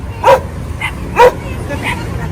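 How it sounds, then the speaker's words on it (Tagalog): Several dogs bark in two sharp bursts with softer yips and whimpers between, close by over a steady low background rumble. "Ang dami mong aso."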